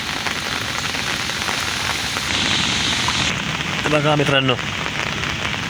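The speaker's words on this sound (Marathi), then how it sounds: "3-4 दिवस झाला जाम पाऊस पडतोय." Heavy rain pours down steadily on a fishing outing, a dense, even patter close by, with a voice briefly speaking over it.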